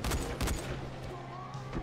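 Bursts of gunfire in the zombie game Dying Light: The Following, a few sharp close shots at the start settling into a steady rattle, with no talk over it.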